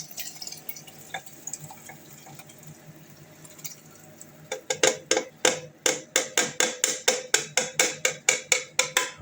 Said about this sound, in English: So we can pour it into our jug. Being very careful, of course, very hot.